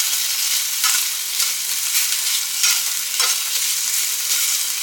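Pieces of already-cooked chicken heated in a pan, with a constant close sizzle and frying hiss broken by periodic stirring scrapes, no voices.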